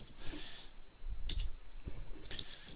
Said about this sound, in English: simply do that by clicking on the arrow and adjusting the price